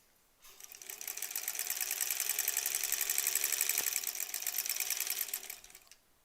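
A sewing machine stitches quilt blocks, starting up, speeding to a steady rapid whirring pulse with a faint click partway through, then slowing and stopping, close and alone.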